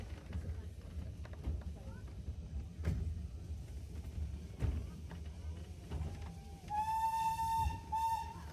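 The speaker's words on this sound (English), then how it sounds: "it was lovely to hear the whistle of the train" Steam train running at Beamish Museum, with low rumbling and clanking of the engine and carriages, then a clear steam whistle blowing twice near the end, sustained and fairly loud over the background.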